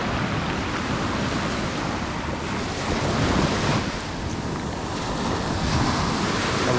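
Wind blows steadily outdoors at a rural Philippine building site in Antique, a loud, continuous broadband rush with microphone buffeting and gusts swelling slightly midway, with no voices.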